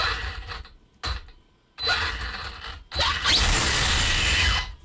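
A RocHobby 1/7 Ridge Racer U4 RC car by FMS, held up on a stand, revs its electric motor and drivetrain in short whirring bursts with brief gaps, then holds a louder, rising whine with no one talking.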